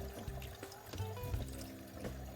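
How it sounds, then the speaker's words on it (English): King prawns are rinsed under a running kitchen tap, a steady splashing pour of water with small knocks and clatters of the shellfish in a bowl or sink, close and continuous throughout. "we need to give them a good rinse under running water"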